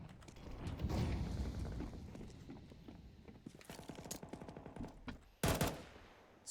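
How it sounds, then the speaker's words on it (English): Scattered gunfire from a Counter-Strike match, several sharp shots and short bursts at mid distance over steady game ambience, with one louder close shot near the end. "Just Dirk firing off a couple of shots."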